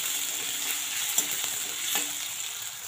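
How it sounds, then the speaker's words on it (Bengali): Potatoes frying with dried red chili in oil for a vegetarian sabudana khichuri, a close, steady sizzle with soft scrapes of stirring throughout. "আলুটা দিয়ে কিন্তু 5-7 মিনিট ভালোভাবে আগে নাড়াচাড়া করে নিন"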